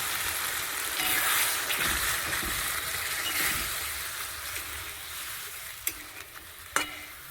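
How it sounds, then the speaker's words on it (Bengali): Egg poppy-seed curry bubbles and sizzles in a pan as a little water is added and stirred, a steady frying hiss with soft scraping and a couple of sharp utensil knocks near the end. "জলটা দিয়ে দিচ্ছি অল্পই"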